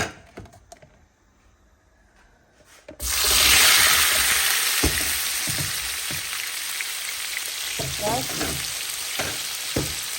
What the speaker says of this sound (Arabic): هنا عنا بصل وفلفل وطماطم، نحطوهم الكل مع بعضهم.